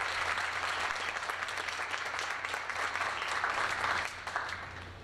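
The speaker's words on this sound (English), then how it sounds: "I'd just like to give a big round of applause for Catalin Wong" Sustained audience applause at a high school spring student art show, a dense, steady wash of many hands clapping for the evening's musician, fairly even in level throughout with no one speaking.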